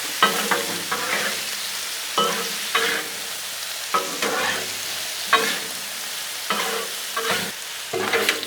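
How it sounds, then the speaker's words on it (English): Shrimp stir fry with soy sauce and stir fry seasoning sizzles on a Blackstone griddle while a spatula scrapes and tosses the food in repeated, irregular strokes, loud and close with no talking. "Come in here and just kind of give it a good coating, good flavor in there."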